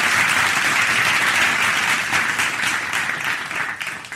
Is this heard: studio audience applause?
yes